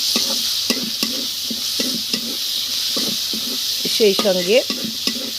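Bean seeds are stir-fried in a hot pan with shrimp, giving a steady sizzle under rhythmic scraping strokes of the stirring spoon and a brief clatter of the utensil near the end, with a few words spoken.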